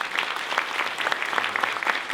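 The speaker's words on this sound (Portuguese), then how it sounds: "Uma salva de palmas para o Carlão." A short burst of steady audience applause at a motivational talk, many hands clapping in a dense, even patter with no voices over it.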